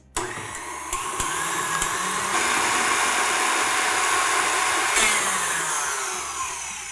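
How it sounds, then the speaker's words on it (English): Electric hand mixer beating room temperature butter in a kitchen while making pistachio honey sugar cookies; a steady, continuous motor whir with the beaters churning, fairly loud and close, running alone for several seconds before easing slightly at the end. "we are gonna beat that with an electric mixer until it is smoothed out"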